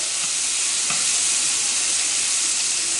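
Venison stew meat browns in a pan over low heat, with a steady, dense sizzle and hiss and a few faint stirring clinks.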